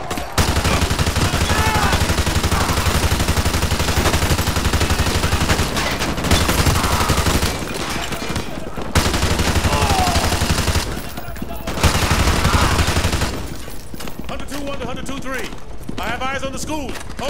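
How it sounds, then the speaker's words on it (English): Sustained heavy automatic gunfire and rapid bursts from a Call of Duty Modern Warfare 2 Remastered battle at a school, dense and loud almost throughout with brief lulls, as radio voices talk over the shooting. "We are taking heavy fire from the school"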